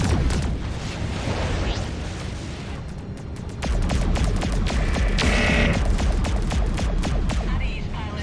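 Missile launches and explosions from the space combat game Freelancer, a dense run of sharp blasts and bursts over rumbling engine noise, with radio-style voices talking in between.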